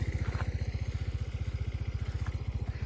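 An Italika WS 175 Sport motor scooter engine putters at a steady, rapid idle-like rhythm, close and moderately loud, with nothing else over it.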